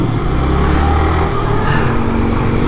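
A motorcycle ridden along a road by a young rider of about ten to twelve, its engine giving a steady, loud rumble with shifting pitch and no pauses throughout.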